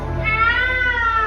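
A person imitates a cat's meow, one drawn-out nasal mew sounding close and loud over a low background hum.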